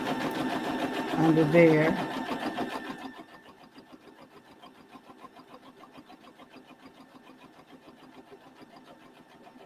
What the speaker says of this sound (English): My bobbin making a weird noise